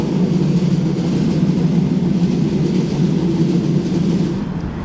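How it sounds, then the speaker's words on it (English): A Linha de Cascais train passes in Lisbon, a loud steady low rumble of wheels and engine that holds throughout and eases slightly at the end. "There's another train. It's the Linha Cascais,"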